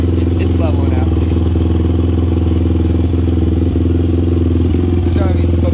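A Daytona Anima motorcycle engine, freshly reassembled after a teardown, idles loudly and steadily up close with a dense mechanical rumble, while someone talks over it.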